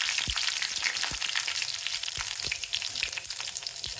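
Mustard seeds and cumin crackle and sizzle in hot oil for a tempering with curry leaves, a steady close hiss dotted with quick popping spatters.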